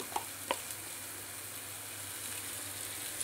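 Onion, ginger and garlic paste hits a hot frying pan for a chicken kofta curry, giving a steady, close sizzle with a couple of sharp clinks of a utensil near the start.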